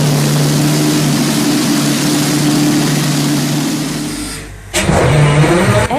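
A Rolls-Royce PV12, a 27-litre liquid-cooled V12 piston aero engine, drones loud and steady with a strong low hum, dips briefly near the end, then roars back up.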